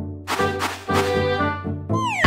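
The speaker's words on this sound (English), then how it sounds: "Here, kitty, kitty!" A cartoon cat meows repeatedly in the video game Super Granny 6: several loud, close, tonal mews in quick succession, with a rising squeal at the end and no talking.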